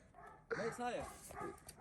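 A dog barks and yips in short bursts close by, mixed in with excited talking from people nearby.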